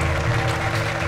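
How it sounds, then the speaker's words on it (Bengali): Clapping from a group, a short steady burst of dense hand claps over a low background hum. "হাততালি তো দিতেই হবে, হাততালি।"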